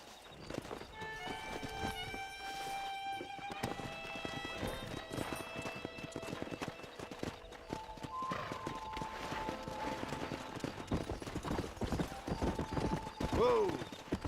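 Horse hooves clip-clop at a steady trot amid game music and ambient noise in Red Dead Redemption, with a horse whinnying briefly near the end.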